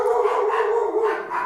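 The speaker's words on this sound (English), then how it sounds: "And the dogs are barking" Dogs bark close by in one short, loud burst of barking, heard alone.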